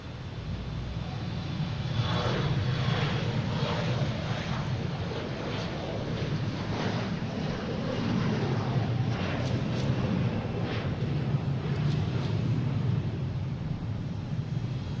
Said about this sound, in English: just had an American come in from Indianapolis on 22 left.